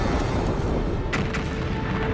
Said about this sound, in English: Just a few million years after the first stars formed, some of them exploded.